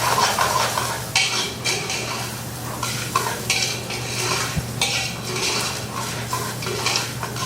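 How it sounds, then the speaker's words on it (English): Arborio rice being stirred and toasted with caramelized onions in a pan for seafood risotto, with steady sizzling and frying alongside repeated scraping and clinking of a utensil against the pan, close and continuous with no talking. "Now, we can finish browning them with the risotto because you want to toast that rice."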